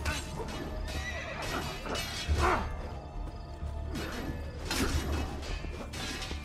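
A horse in the game Assassin's Creed 2 neighs and whinnies repeatedly amid hoof clatter and brief crashing and swishing effects, fairly close and loud, with no talking.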